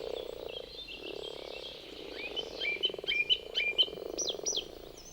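Grass frogs croak in a rapid chorus, rising into a dense burst of chirping calls over a low, steady background rumble.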